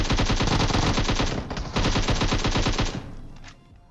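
Automatic gunfire in the mobile shooter PUBG Mobile, loud rapid bursts of machine-gun shots in two long strings with a short pause between, then a fading tail, with no voices.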